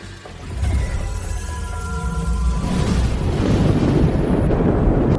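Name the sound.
explosion of a man blowing himself up in a drama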